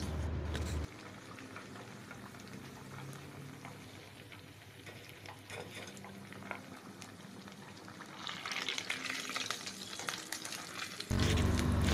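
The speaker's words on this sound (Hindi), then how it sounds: "इसी तरह सारे साबू बड़े हम फ्राई कर लेंगे।" Sabudana vadas deep-frying in hot oil in a kadhai give a steady, dense sizzle and bubbling that swells louder near the end, with no voices.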